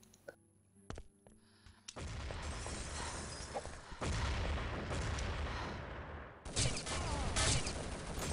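Grenades are thrown into mid during a competitive NationsCup video game match between Nordic and Belgium, setting off a loud, dense stretch of booms and gunfire with sharp bursts near the end and no talk.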